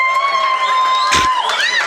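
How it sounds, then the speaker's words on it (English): Audience at a standup comedy show cheering and whooping, loud, bright voices shouting together over a brief swell of noise, close and sustained for a couple of seconds. "Clap it up for your young person."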